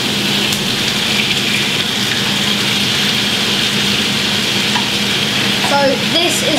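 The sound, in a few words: onions and peppers frying for chicken fajitas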